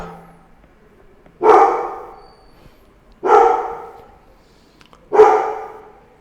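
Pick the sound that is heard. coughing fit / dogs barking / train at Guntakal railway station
dogs barking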